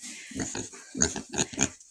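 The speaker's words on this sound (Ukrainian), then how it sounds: "Вони в нас свині розумні." Farm pigs grunt and oink in a quick series of five or six short, close calls, with no speech.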